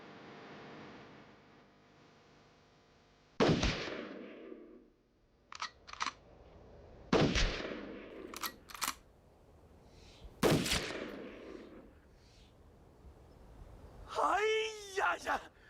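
Three loud, sharp gunshots ring out a few seconds apart in a scene from an anti-Japanese war action drama, with dialogue between them.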